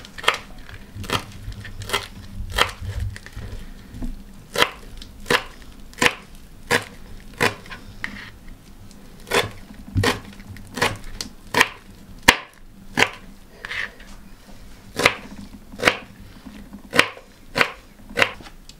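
A knife chops dill and parsley on a board in about twenty crisp, evenly spaced strokes, close and clear over a quiet kitchen background.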